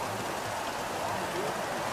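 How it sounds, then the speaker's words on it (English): Heavy rain in the racing game F1 2017, a steady dense hiss filling the clip from start to finish, loud and constant with no breaks. "it's going to be heavy rain for the entire race"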